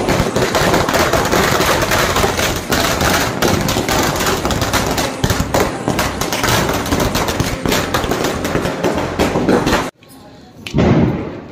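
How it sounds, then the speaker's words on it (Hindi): Rapid 12-shot Diwali firework cake crackling in a dense, loud stream of bursts for about ten seconds, then stopping abruptly, with a few fainter pops and voices afterward. "मेरे पापा अभी 12 शॉट चला रहे हैं"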